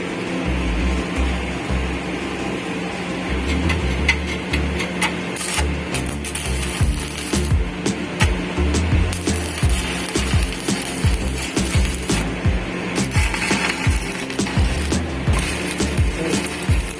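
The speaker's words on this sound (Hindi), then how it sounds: "अब हम इसके अंदर वेल्डिंग करके आपको बताते हैं।" An ESAB arc welding machine lays a weld, giving a steady, loud crackling and buzzing with dense sputtering pops that run without a break, with no talk.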